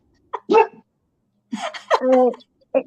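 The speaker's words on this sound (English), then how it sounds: "Sorry if you can hear me dog barking." A dog barks several times in short, uneven bursts, fairly close, with quiet gaps between the yaps.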